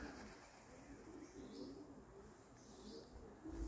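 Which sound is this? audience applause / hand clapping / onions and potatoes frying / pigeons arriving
pigeons arriving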